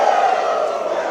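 A packed crowd roars and cheers steadily at a live CCW wrestling event in Miami, a loud, dense wall of voices with no break.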